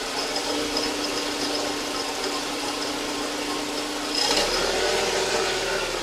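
A Mercedes-Benz S124 with the M102 four-cylinder engine idles roughly, a steady close mechanical drone with a faint whine; partway through, the engine note deepens and grows slightly louder.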